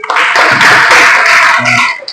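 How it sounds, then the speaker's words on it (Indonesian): An audience claps together at a religious lesson on the Eid prayer, a dense, loud burst of applause lasting about two seconds with no talk over it. "tepuk tangan lagi"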